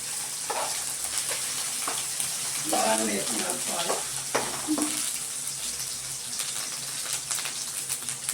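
Egg curry frying in a pan on a home stove, a steady soft sizzle with scattered crackles and splatter as the mix is stirred, fairly close and moderately quiet.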